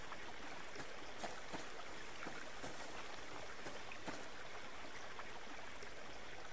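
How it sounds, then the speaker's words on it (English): A flowing stream in the survival game Subsistence rushes and burbles steadily. The sound is faint and unbroken throughout, with no talking over it. "Like this stream here."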